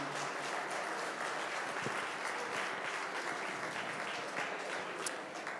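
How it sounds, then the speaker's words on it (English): Audience at an armwrestling event applauds in a steady, faint wash of clapping that runs throughout, heard from a distance with scattered whoops. "Give a round of applause to the girls."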